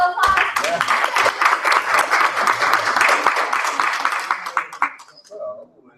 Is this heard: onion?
no